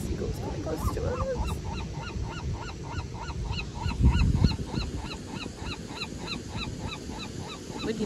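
Seagulls call close by on a sunny Los Angeles beach, a dense chorus of repeated short, strident cries overlapping in steady rhythm over breezy background noise, with a brief louder rustle partway through.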